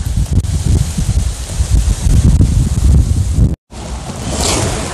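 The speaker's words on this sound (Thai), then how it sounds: "ลมแรงทำให้เสียงลมมันรำคาญเสียงไหม" Strong wind buffets the microphone outdoors on a gloomy, rainy day in the woods while someone forages for wild mushrooms. The roar is loud and blustery, cuts out briefly, then resumes.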